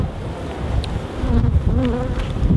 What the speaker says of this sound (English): Isn't the hum of the honeybees just beautiful?